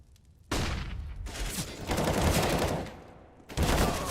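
Gunfire in Counter-Strike: Global Offensive during an ESL Pro League match, a sharp burst of shots opening a dense, loud volley that runs for about three seconds, then another sudden blast at the end.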